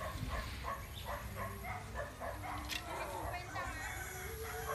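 Puppies yipping and whimpering in short repeated bursts, close by, mixed in with a person talking over them.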